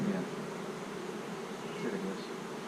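Agitated honeybees drone in a continuous low buzz around an open hive during an inspection, fairly faint and steady, with the beekeeper's handling noises mixed in.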